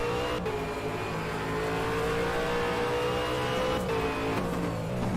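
V8 Supercar on an onboard lap of Symmons Plains in a racing game, a loud, continuous engine drone held close with a steady pitch, briefly dipping twice as gears shift.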